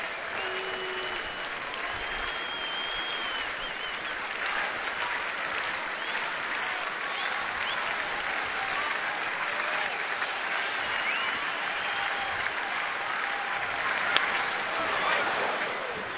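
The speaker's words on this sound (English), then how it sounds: "Did you hear the crowd? Ooh! Every time he fouls the ball back." Baseball stadium crowd reacting to a foul ball during a San Diego Padres at Washington game, a steady, dense roar of applause and murmuring that holds throughout, swelling slightly near the end.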